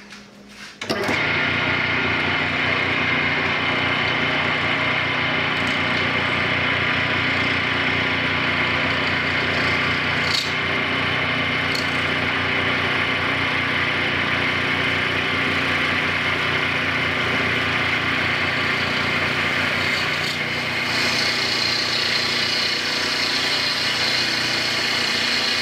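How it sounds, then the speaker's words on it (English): A lathe turning a block of resin runs as a steady, loud mechanical drone with a constant whine throughout, with brief faint knocks over the top and no talking. "have you ever turned resin before with the lathe?"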